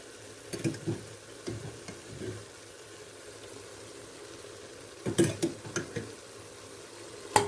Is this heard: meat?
yes